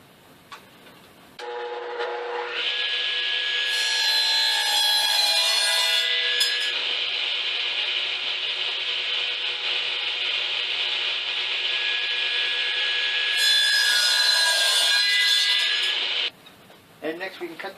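A wooden umbrella handle and scabbard being trimmed to size and an end squared up: one loud, steady cutting sound with a high whine, sustained for about fourteen seconds and close by, with brief quieter handling before and after.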